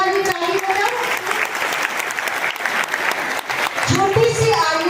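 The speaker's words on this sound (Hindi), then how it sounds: "एक बार अच्छी वाली ताली बजाओ" An audience applauds an Indian Navy captain at a public ceremony, a dense, steady wash of clapping throughout while a voice talks over it.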